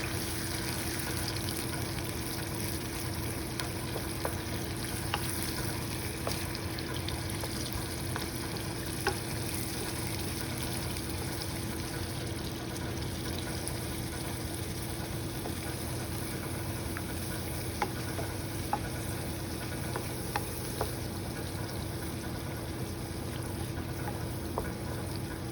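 Chicken in buffalo sauce sizzles steadily in a pan while it is stirred, with soft scrapes and occasional clicks over the continuous low frying hiss.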